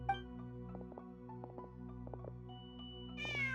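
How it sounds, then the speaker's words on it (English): A cat in a video game gives a clear, drawn-out meow near the end, over a low steady game background hum with faint soft clicks. "Just a cat."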